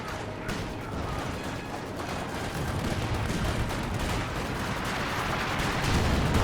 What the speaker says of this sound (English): 320mm mortars here, all lined up. So they are bombarding the center